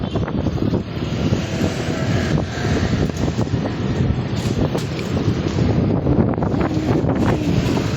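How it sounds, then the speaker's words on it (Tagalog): Strong wind buffets the microphone in a constant loud roar at a bus terminal, with a faint wash of water beneath it and no speech. "Lakas na din ang hangin dito."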